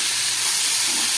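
Pointed gourd (potol) frying gently in a pan over low gas makes a steady, continuous hiss and sizzle throughout the short stretch.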